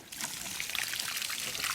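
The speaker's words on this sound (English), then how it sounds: "So there we go, that's the full system draining off." Water drains out of a DIY three-barrel koi pond filter system, a steady close pouring and trickling wash that runs unbroken for the whole stretch with no voices over it.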